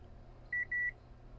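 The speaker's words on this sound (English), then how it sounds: "Beep mode, you can hear my multimeter beeping." Two short electronic beeps from a multimeter in continuity mode testing a laptop motherboard, a brief tone then a slightly longer one, clear against a quiet background.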